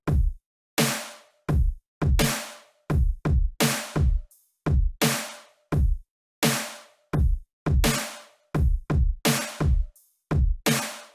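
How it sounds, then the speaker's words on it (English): Loud, punchy drums from an electronic dance track, with heavy kicks and bright crashing hits landing in a steady, driving rhythm with no voices over them. "As for the drums, just make them nice and beefy."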